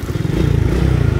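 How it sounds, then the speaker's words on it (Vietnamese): A Suzuki Viva Fi motorcycle engine idles close by, a loud, steady low putter with rapid even pulses and light mechanical clatter, running alone without voices. "Máy im quá nè mày"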